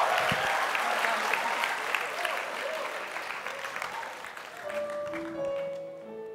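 A large audience applauds a band at a televised Jakarta event, a broad steady wash of clapping that eases slightly while music tones begin to sound underneath toward the end.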